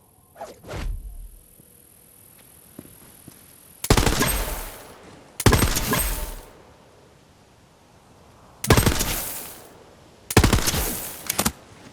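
Gunfire in Borderlands 3 as bottles are shot: four loud, close bursts of rapid shots, each lasting about a second and spaced a few seconds apart, following fainter earlier pops and clinks.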